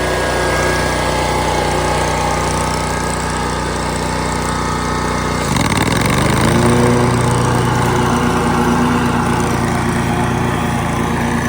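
Lawn mower at full throttle on grass, its engine droning loud and close, then surging midway with a rising, shifting whine as it speeds up and keeps roaring without pause.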